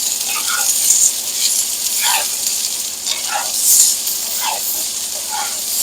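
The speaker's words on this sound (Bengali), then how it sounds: "ম্যারিনেট করা সবজিটা আমি এই তেলে দিয়ে দিচ্ছি।" Marinated ridge gourd pieces frying in hot oil in a pan, a steady close sizzle with intermittent sharper crackles and spatter pops throughout, no talk.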